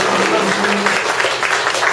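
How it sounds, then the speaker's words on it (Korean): Audience applause closing a Korean author's book reading event on a cold day, a dense steady patter of many hands clapping at even loudness throughout, with a faint murmur underneath. "큰 박수"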